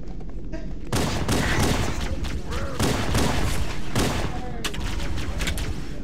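Video game gunfire hits a wall in dense, loud, continuous bursts, with a short pause partway through before the firing resumes.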